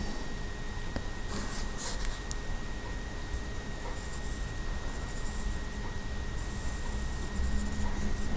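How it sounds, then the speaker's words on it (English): Pencil scratching across paper while forming handwriting letters, a soft continuous scratchy stroke sound with faint room hiss, close and quiet, no talking. "keeping your pencil on the paper"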